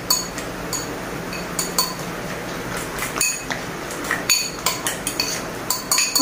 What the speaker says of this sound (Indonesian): Ini lanjut kita aduk lagi.